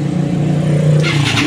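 A Yamaha Xeon scooter's electric starter, tested after a broken relay was reconnected, runs the engine with a close, steady low hum that rises into brighter noise toward the end. No voices.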